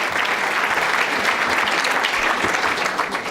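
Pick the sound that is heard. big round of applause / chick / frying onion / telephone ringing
big round of applause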